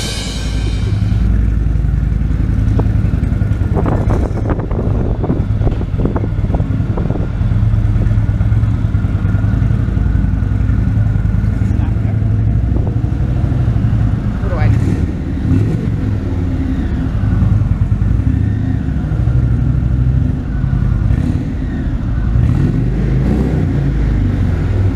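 A motorcycle engine idles and revs steadily throughout, close by and loud, with uneven surges of throttle.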